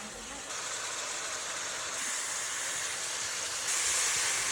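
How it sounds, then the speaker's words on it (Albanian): Minced meat for spaghetti bolognese fries in a pan as red wine is poured in, giving a loud, dense sizzling hiss that steps up sharply as the liquid hits. "Pasi mishi të jetë skuqur mirë, do ta shuaj me pak ver të kuqe"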